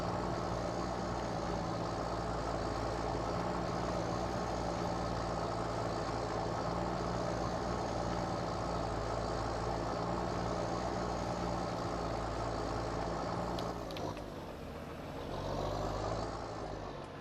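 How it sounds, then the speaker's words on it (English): A John Deere tractor in Farming Simulator 19 drones with a steady low engine note while ploughing, constant and even, dipping briefly in pitch near the end. "Sounds good, this John Deere."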